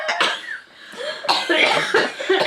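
A person coughs several times in quick succession after drinking bourbon, loud and close, with harsh breathy bursts and a brief pause between fits.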